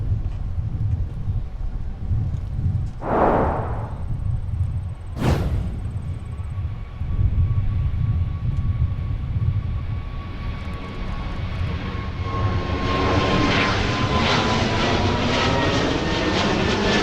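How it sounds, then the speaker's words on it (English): Delta flight 163, an airliner inbound from Amsterdam, lands at Minneapolis–Saint Paul airport with a steady engine roar, a couple of sharp transient bursts early on, then a rising, building rumble toward the end. "we'll take another look at Delta 163 coming down to meet the runway here"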